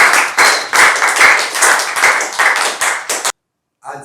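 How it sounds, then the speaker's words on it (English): A crowd claps together in a brisk, loud round of applause that stops abruptly, followed by a brief silence. "A round of applause for this couple, please."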